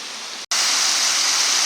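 Steady rushing wash of an Alpine mountain stream near a cave, broadband and constant, with a brief dropout early on.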